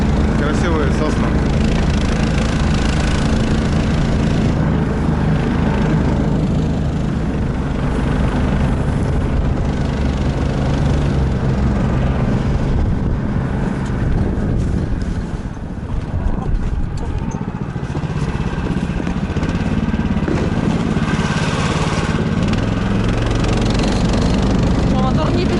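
A vehicle motor drones loudly and without a break while travelling through snowy pine taiga in a blizzard, a dense, steady engine roar close by with people talking faintly beneath it.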